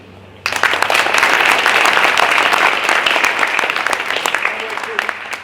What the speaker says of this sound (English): I'd also like to give a round of applause to Tony Barris and the San Diego Air and Space Museum